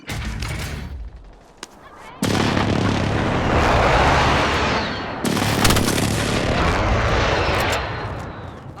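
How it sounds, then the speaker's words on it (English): Precision airstrike explosions in the Call of Duty Warzone video game: loud, heavy blasts with booming rumble, arriving in two big waves that roll on and decay slowly. "Precision airstrike inbound."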